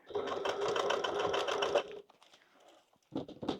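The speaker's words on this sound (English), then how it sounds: "I might actually just sew another line further out" A domestic sewing machine stitches a straight line of topstitching on a zippered bag, a steady rapid run of needle strokes for about two seconds, then quiet handling and a short second burst.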